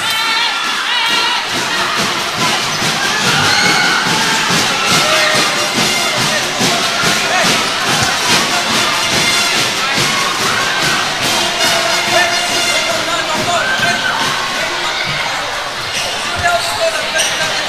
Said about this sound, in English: And the crowd goes wild after making the shot.